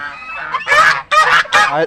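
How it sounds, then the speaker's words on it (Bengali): Ducks squawk loudly and harshly, three long honking bursts in quick succession, close by with no talk. "দেখো কত হাঁস এই ক্যামেরা দেখে সব চিল্লাচ্ছে"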